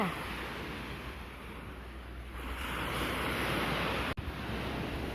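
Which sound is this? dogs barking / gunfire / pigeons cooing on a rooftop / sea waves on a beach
sea waves on a beach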